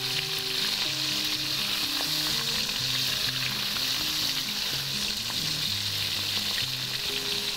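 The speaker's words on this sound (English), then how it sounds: "We're gonna fry it for about 60 to 90 seconds until it's light golden brown." Food for Chinese takeaway-style dishes deep frying in hot oil until light golden, a dense continuous bubbling sizzle heard up close and unbroken for several seconds, with no talking.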